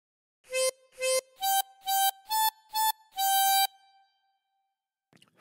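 Seven clear tones played on a 16-hole tremolo harmonica, giving the opening phrase of Twinkle Twinkle Little Star as six short evenly spaced notes and a longer held final note, with no talking.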